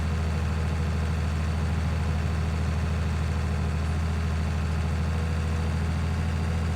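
A tractor engine in Farming Simulator 19 idles with a steady, low, even rumble that holds unchanged throughout, with no voices over it.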